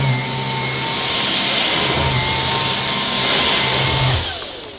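A Dyson Ball Animal Multifloor cordless vacuum cleaner runs steadily at close range, a loud continuous motor whine and airflow roar with a brief shift in pitch near the end as it winds down.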